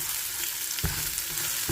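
Potatoes seasoned with salt and turmeric fry lightly in oil, giving a steady soft sizzle with a few faint stirring clicks over just under two seconds.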